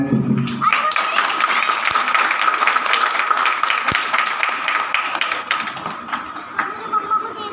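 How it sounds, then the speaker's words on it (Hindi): Thick, continuous applause from a gathered Hindi-speaking audience welcoming a guest, mixed with a steady ringing tone and some voices, holding level for several seconds. "सभी लोग तालियां बजाएं"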